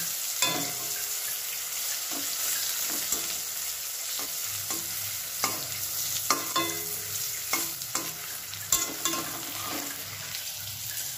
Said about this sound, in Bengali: সিমটা একটু ভাজতে একটু সময় লাগে